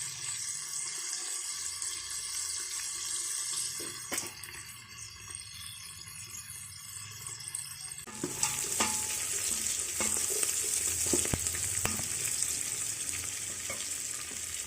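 Ingredients such as almonds and green chilies sizzling in hot oil in a pan for moringa flower biryani, a steady crackling hiss that grows brighter and louder midway, with occasional clinks of stirring.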